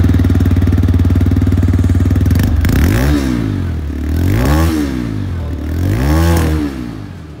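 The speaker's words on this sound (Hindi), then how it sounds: "इसकी जो एग्जॉस्ट साउंड है वो भी मैं आप लोग को सुना" 125cc motorcycle exhaust, loud steady idle burble up close that breaks into three rising and falling revs of the throttle, each swelling and dropping back, no talk.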